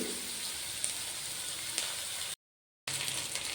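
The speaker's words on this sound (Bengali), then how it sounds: "পেঁয়াজটা ভাজা ভাজা হয়ে গেছে, হালকা ব্রাউন হয়ে গেছে।" Onion fries to a light brown in a pan, producing an even, moderately quiet sizzle that continues steadily, broken by a short stretch of complete silence before resuming.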